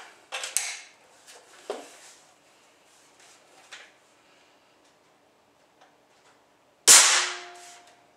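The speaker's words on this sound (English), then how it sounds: "737 feet per second on that third shot." A Benjamin Bulldog air rifle fires one sharp, loud shot near the end. Before it come several small mechanical clicks and handling taps, then a quiet pause, and the shot rings briefly as it decays.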